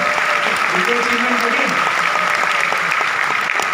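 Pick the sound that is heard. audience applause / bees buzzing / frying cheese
audience applause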